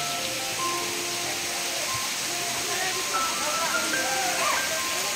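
Raikal Waterfalls in Telangana gives a steady, broad rushing hiss of falling water that stays constant throughout, with faint voices now and then beneath it.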